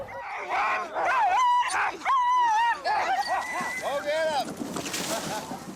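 A six-dog sled team whines, yips and barks eagerly, high wavering cries overlapping close by, with some vocal noise mixed in.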